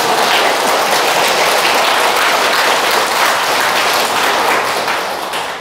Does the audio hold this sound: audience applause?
yes